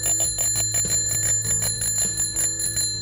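A Roda-branded bicycle bell is rung over and over in quick bright metallic trills, close and loud, with sustained ringing tones between the strikes and no talking.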